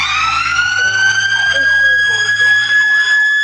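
Loud wailing sirens rise and fall continuously, several overlapping, with a deep engine rumble underneath; close by and dominating.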